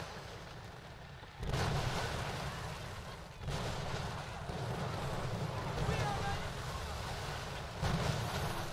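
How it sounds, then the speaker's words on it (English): Ship-mounted rockets fire in the naval combat game Skull and Bones, three heavy booming salvos that each roll into a long rumble over wind and sea noise, with a voice talking underneath. "I'm going to actually start peppering him with my rockets."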